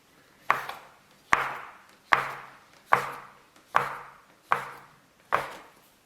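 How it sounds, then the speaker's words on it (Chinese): A metal dough cutter chops through steamed bun dough on a board, seven sharp close chops at an even rhythm, each a crisp knock with a short tail, no talking. "然后我们用切刀给它划分一下，这样切出来更加均匀。"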